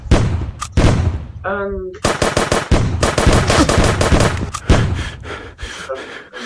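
Enemies fire in the final level of a prototype video game, with loud rapid-fire bursts and heavy repeated shots alongside a short electronic tone, and a voice speaks briefly over the shooting.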